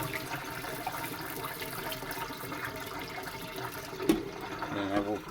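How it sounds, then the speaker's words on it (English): Water from a soak of grain for mushroom growing is poured off into a kitchen sink, a steady running splash lasting throughout with a brief louder slosh near the end, under continuous low background noise. "I'm going to just dump the water off the top"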